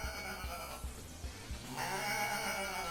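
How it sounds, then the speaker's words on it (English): Goat bleating plays as a sound effect in the Homestuck game, a brief, wavering, nasal cry over a steady tonal background. "It was just goat noises?"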